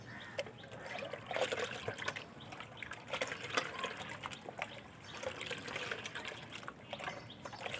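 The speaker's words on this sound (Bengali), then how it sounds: "দিয়ে জলটিকে আমি খুব ভালো করে নেড়ে নেব" Water with five to six grams of fertilizer dissolved in three litres being stirred, a steady close sloshing and trickling that churns continuously without pause, moderately quiet and with no voices.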